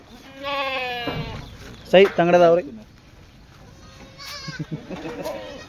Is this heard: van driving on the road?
no